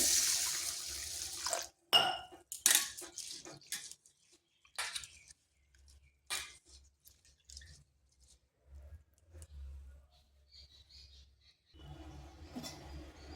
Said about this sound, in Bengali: এরপর ডালটাকে ভালো করে ধুয়ে নিচ্ছি